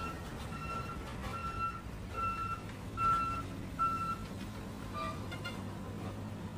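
A large dump truck sounds its reversing alarm, a series of evenly spaced steady beeps over a low rumbling engine and street noise, at moderate distance.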